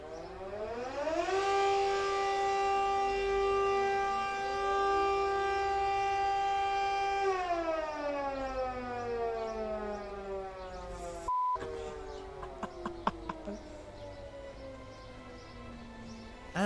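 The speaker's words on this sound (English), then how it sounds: "you can hear the surrounding sirens being tested" Civil defense sirens under a monthly noon test wail from nearby, a loud rising and falling mechanical tone that holds steady and then winds down while more distant sirens sound behind it.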